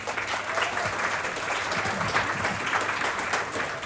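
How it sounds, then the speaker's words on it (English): Wedding guests burst into dense, sustained applause at a reception, many hands clapping together in an even, close roar that holds steady for a few seconds. "A round of applause, please, for Mr."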